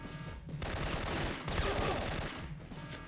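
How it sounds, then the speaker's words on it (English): Dense, sustained gunfire from the video game Syphon Filter, rapid bursts layered continuously across the whole stretch with a brief dip midway, loud and close with no voices. "Right, all guns are blazing."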